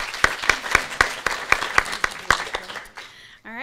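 Audience clapping for the judges at the 2018 WiSys Quick Pitch competition at UW Eau Claire: about a dozen crisp, evenly spaced claps in a steady rhythm that stop near the end.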